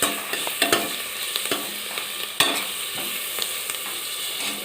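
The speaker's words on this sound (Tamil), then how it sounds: "நல்லா மிக்ஸ் பண்ணி வதக்கி வச்சுக்கலாம்" Onion, garlic and dried chilies sauté in a pan for coconut milk rice: a close, steady sizzle punctuated by repeated sharp scrapes and taps of a spoon stirring against the pan.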